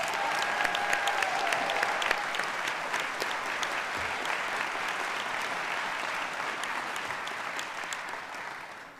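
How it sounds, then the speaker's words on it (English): A crowd at a political group's kickoff event gives sustained, even applause to thank the organizers, a thick continuous patter with a brief tonal whistle early on, slowly softening toward the end. "so let's give everyone a round of applause"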